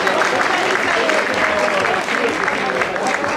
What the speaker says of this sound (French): On applaudit Lucas